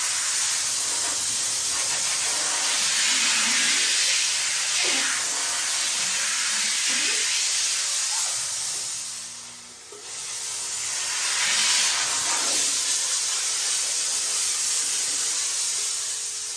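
A Chief steam cleaner blasts pressurized steam in a loud, steady hiss that runs almost nonstop, briefly easing off near the middle before surging back at full force.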